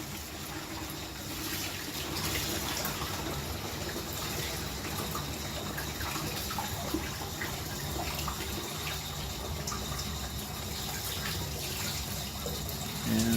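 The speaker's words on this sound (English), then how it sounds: "Take your gallon jug." Hot tap water gushing steadily into a plastic gallon jug, a continuous splashing stream with no pauses, heard up close and alone throughout.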